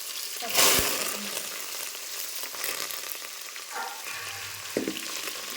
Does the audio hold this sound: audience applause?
no